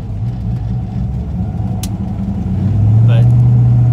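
A 1996 Impala SS with a Gen V engine swap rumbles along on a test drive, a low steady engine note that swells louder near the end under a brief voice.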